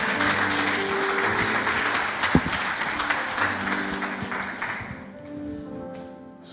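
Congregation at a French-speaking church service applauding in a dense, steady wash of clapping that thins out toward the end, with a sustained musical tone underneath.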